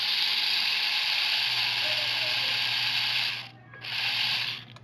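Homemade rotary cartridge tattoo machine running with a steady, smooth high whir and faint mechanical ticking, cutting out briefly near the end before resuming, then fading; no voices.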